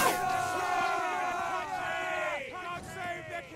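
Many soldiers in a Roblox Waterloo battle raise a loud, sustained cheer together, a massed chorus of shouting voices that swells and then tails off.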